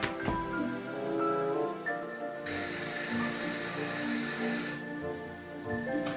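A bright bell rings steadily for a couple of seconds amid a busy background of tonal music-like sounds, then stops.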